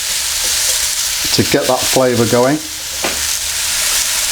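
Vegetables for a Chinese takeaway-style chow mein sizzle and fry in a hot wok, a steady frying hiss running throughout beneath a brief stretch of someone talking in the middle.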